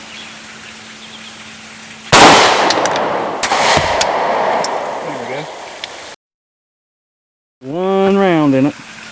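A Sig Sauer SSG3000 rifle fires Winchester steel-cased full metal jacket rounds at cans about 20 yards away: one sharp, loud outdoor shot with a long rolling echo, a brief silence, then a voice.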